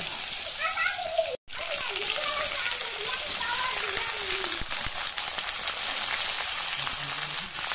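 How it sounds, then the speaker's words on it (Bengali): Pumpkin and potato pieces drop into hot oil with black cumin in a pan and fry with a constant bright hiss and splatter. A person speaks over it for most of the stretch. "তেলের মধ্যে ছেড়ে দিলাম কুমড়োগুলা আর আলুগুলা"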